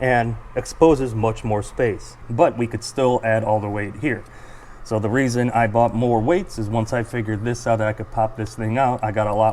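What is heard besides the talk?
None of the usual background noises is heard.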